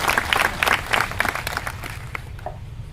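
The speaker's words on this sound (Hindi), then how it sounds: "जोरदार ताली बजा हो कर लिए।" A crowd at a cooperative society strike rally claps loudly in dense bursts that fade away over a few seconds.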